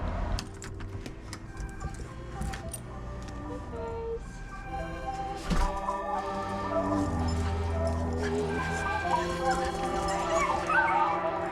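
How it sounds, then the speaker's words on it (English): Dogs yipping and whimpering in excited bursts over a busy background, with people talking throughout. "Now we get to see our dogs, who will someday sail with us."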